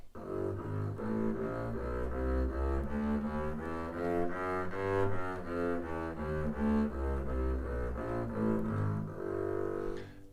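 Double bass bowing a G chromatic scale for a grade 4 exam, one even note after another stepping up and then back down, close and moderately soft, with no talking.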